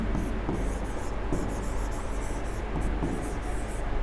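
Marker or chalk writing on a board during a maths lecture, a steady scratchy rubbing that runs through the whole stretch over a constant background hiss, with faint intermittent strokes.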